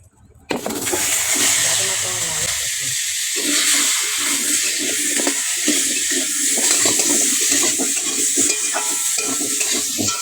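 Washed sweet pumpkin pieces drop into hot oil in a kadai with turmeric and a little salt, bursting into a loud, continuous sizzle that stays steady after the first moment of quiet.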